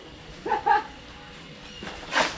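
A dog gives two short, close barks in quick succession, followed by a fainter yelp a moment later, set against quiet room noise at a home.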